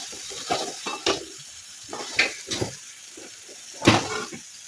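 Egg curry with masala being mixed in a pan: a spoon scrapes and knocks against the metal in uneven strokes over a soft continuous sizzle, close and clear.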